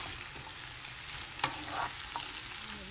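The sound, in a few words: frying food with onion and green chili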